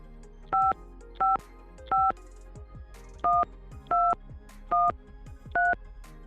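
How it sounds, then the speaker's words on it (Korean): Seven short, evenly spaced dual-tone keypad beeps of a telephone being dialed, clear and close, with faint tapping and background noise between presses. "제가 전화해 볼게요."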